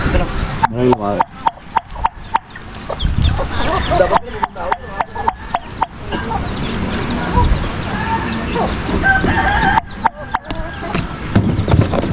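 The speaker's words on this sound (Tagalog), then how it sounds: "papakainin ko lang yung mga manok" Several chickens cluck and chatter throughout amid sharp clattering knocks and a person talking while feeding them, with busy farmyard noise close by.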